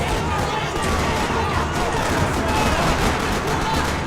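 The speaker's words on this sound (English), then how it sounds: "Another parking lot rattling with gunfire." Dense rapid gunfire in a parking lot in the video game Max Payne 3, rattling bursts layered over each other continuously, with faint background commotion throughout.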